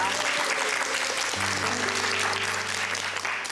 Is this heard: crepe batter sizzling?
no